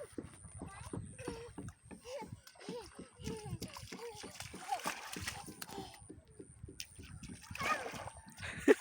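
Children splash and play in water, bursts of splashing mixed with kids' voices and chatter throughout, fairly close, with a louder splash near the end.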